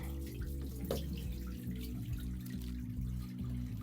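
Water pouring steadily out of a plastic mop bucket with a wringer, a continuous splashing gush and trickle heard close by with no talking.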